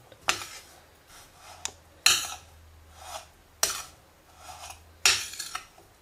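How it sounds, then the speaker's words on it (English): Chutney pudi mixed in a skillet: four distinct metallic scrapes of a spoon against the pan at regular intervals, with softer rubbing and shuffling of the dry powder between them, no talking. "Now putting all the chutney pudi back into the skillet and mixing it really well."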